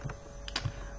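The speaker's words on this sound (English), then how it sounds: "We can simply type" Typing on a computer keyboard: a few soft, close key clicks in under a second over a steady low hum.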